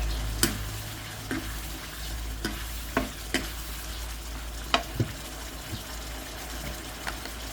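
Halved red jinda chili peppers are stir-fried in a pan with chicken and curry paste, a quiet sizzle broken by repeated sharp scrapes and clacks of the spatula at an uneven pace.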